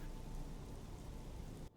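Steady heavy rain hisses evenly throughout in the video game Halo: Reach, a dense wash of drops that cuts off abruptly at the end.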